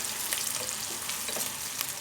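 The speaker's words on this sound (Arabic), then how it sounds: "مش هحمر يا جماعه، انا هدي بس تقليبه كده تشويحه" Chopped onions sauté in ghee in a pan, giving a steady, close, dense sizzle with faint stirring, continuous throughout with no talk.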